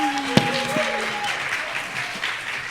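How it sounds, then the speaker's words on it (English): An audience at a live podcast show applauds, a steady wash of clapping that holds at a moderate level throughout, with a brief tone and a sharp click near the start. "Audience, give it up for Valerie and Kang."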